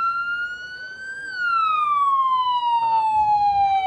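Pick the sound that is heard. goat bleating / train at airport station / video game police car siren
video game police car siren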